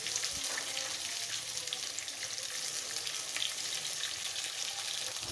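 Sliced bananas fry in hot oil in a pan for a pangas fish bhuna dish, a steady, close crackling sizzle that carries on evenly with no talking.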